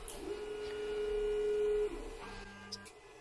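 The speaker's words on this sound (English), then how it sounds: "And sure enough, the printer moves. So it's homing right now." A Sunlu S9 Plus 3D printer homing before bed leveling whirs with stepper motors, giving a sustained tonal hum that steps to a lower pitch partway through, quiet and close with no talking.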